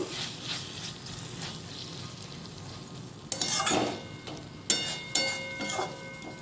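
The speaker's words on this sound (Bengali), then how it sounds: "ভালো করে আলু আর পেঁপেটাকে মশলার সঙ্গে কষিয়ে নেব" Potatoes and papaya stir-fried with spices in a pan, a soft sizzle under repeated spatula scrapes and clatters that grow louder near the end.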